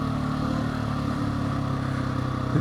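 Motorcycle engine running close and loud, a steady throbbing rumble with a slight throttle blip near the end, recorded from the rider's position on a road.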